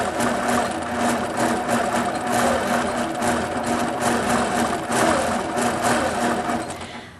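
A quilting sewing machine stitches in a steady, close, mechanical whir with rapid rhythmic needle ticks, running continuously and easing off slightly near the end.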